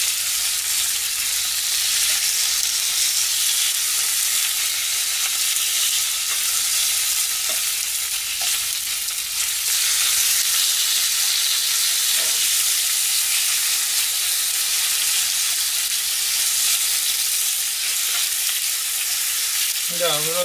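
Sliced pork belly frying in a pan, a steady, loud sizzle and crackle of hot fat that runs unbroken from start to finish, close up.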